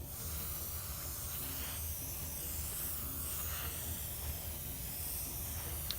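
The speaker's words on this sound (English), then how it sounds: "So let's start spraying. Nice even passes." An airbrush lays down light, even passes of aluminum metallic paint, giving a continuous soft airy hiss at low level that holds steady with slight swells throughout.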